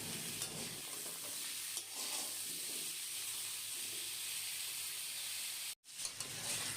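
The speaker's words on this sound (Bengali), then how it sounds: "নুন হলুদ দিয়ে নেড়েচেড়ে নিয়ে 4-5 মিনিটের মতো ঢেকে রেখে চিচিঙ্গা আলুগুলোকে ভেজে নেব" Ridge gourd and potato pieces fry in a covered pan with salt and turmeric, giving a steady, dense sizzle and hiss that carries on throughout, with a brief soft clatter near the end.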